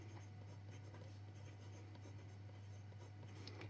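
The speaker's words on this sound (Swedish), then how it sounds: "Jag ska skriva det med ord här." Pen scratches steadily on paper in short strokes at a desk, faint and close, with a low electrical hum underneath and no talking.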